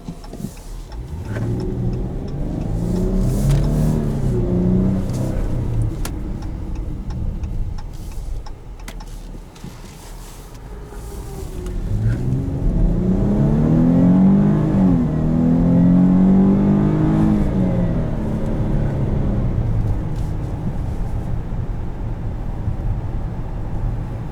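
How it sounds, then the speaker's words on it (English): A 2015 Dodge Charger SXT AWD pulls away hard from a stop, heard from inside the cabin: two long runs of engine revving that climb through the gears with shifts between them, loud and close, with some ticking and clicking along the way. "Do one last acceleration from a dig."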